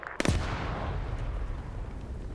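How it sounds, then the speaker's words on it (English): HE shell explosion in a military shooter video game, one sharp loud blast near the start followed by a long rumbling low decay. "They're hitting HE shells in there now."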